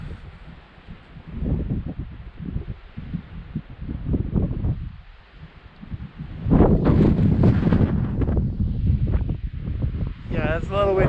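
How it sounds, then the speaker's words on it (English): Wind gusting across the summit of West Baldpate, buffeting the microphone with a low roaring rumble that swells into stronger, louder gusts in the second half, with a voice faintly present at times. "it's a little windy"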